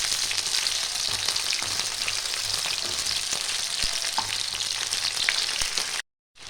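Mushrooms fry lightly in hot oil in a pan for a Bengali-style chilli mushroom, a steady bright crackling sizzle with occasional pops and stirring knocks, continuous until it cuts off abruptly.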